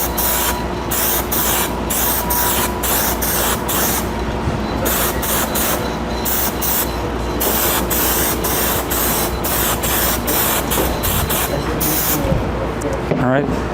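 A spray can lays clear coat onto a panel in steady, close, hissing bursts broken by brief pauses, with a voice speaking at moments underneath.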